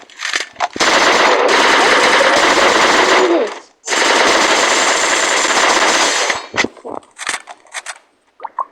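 Bursts of rapid automatic gunfire in a shooting video game, two long sustained volleys followed by scattered single shots and clanks, loud and close.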